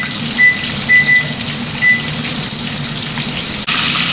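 Chicken fried steak fries in a pan with a constant loud, hissing sizzle that runs unbroken from start to finish, with a few faint high beeps over it.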